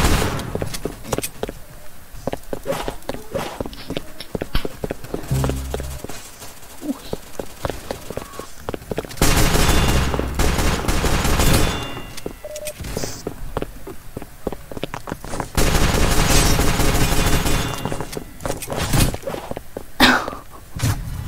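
Bursts of submachine gun fire in a Roblox game crackle in dense, rapid volleys, with two long loud stretches of sustained shooting among scattered shorter shots and game noise.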